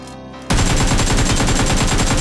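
Rapid automatic gunfire in the battle royale game BGMI, a loud, sustained burst of closely spaced shots that starts abruptly after a brief quieter moment and runs without pause.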